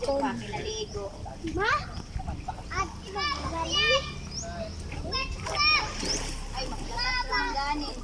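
Foreign visitors bathing in a cold spring in Pilar, Surigao del Norte, make repeated water splashes, close by, amid excited shouting and children's chatter and laughter.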